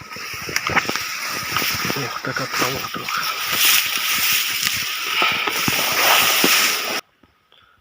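Someone wades across a river near Pripyat, with water sloshing and splashing close by in irregular bursts that continue steadily, under a brief spoken remark, before cutting off abruptly.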